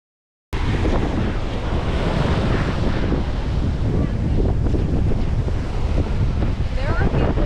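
Ocean surf washing onto a beach in St Petersburg, Florida, a steady, loud roar of breaking waves buffeted by heavy wind noise on the microphone, continuous throughout with no talking.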